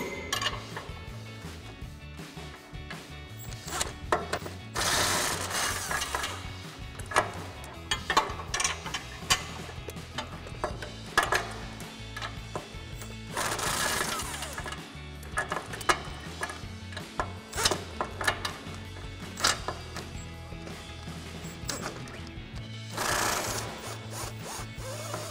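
Wrench and socket loosening the lower strut mount nut on a Toyota Tundra during a suspension lift install, a run of repeated metallic clicks and ratcheting bursts with clinks of tools, close and moderately loud.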